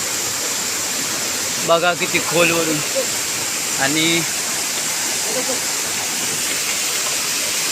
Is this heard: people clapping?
no